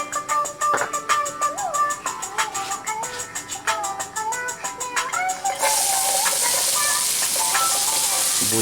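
Cooking oil sizzling in a pan at the start of making a Filipino-style chicken biryani, crackling and popping in short bursts before settling into a steady loud hiss.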